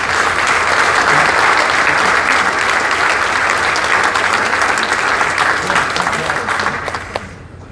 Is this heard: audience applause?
yes